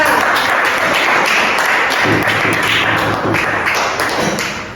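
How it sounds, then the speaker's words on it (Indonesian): Students in a classroom applaud a group, a loud burst of clapping with taps and thumps that fades slightly toward the end. "tepuk tangan untuk Mbak Nahwa"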